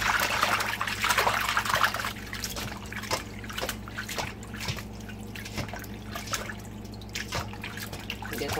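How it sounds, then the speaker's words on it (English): Water strained off and a food washed with about an ounce of lemon juice, giving steady close trickling and dripping with scattered small splashes and clicks over a low hum. "I'm going to strain this water off, wash it with some lemon juice"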